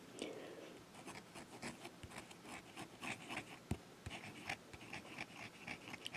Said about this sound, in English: Writes really well. I really like this pen.